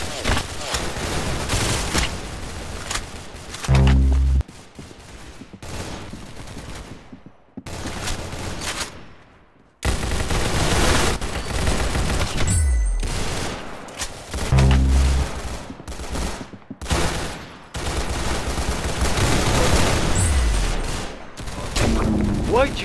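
Rapid gunfire bursts from the Roblox game Arsenal, repeated shots and heavy bangs in quick volleys across a busy mix with game music and occasional voices, loud and close.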